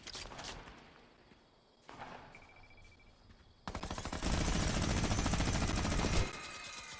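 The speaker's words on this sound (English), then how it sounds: "Okay, this is a minigun thing." Fortnite minigun fire roars in a dense, continuous rapid burst lasting a few seconds, loud and close, after quieter in-game sounds.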